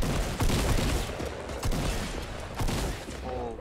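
Assault rifle fire in a Fortnite match comes in several quick bursts of rapid shots, loud and close, spread across a few seconds.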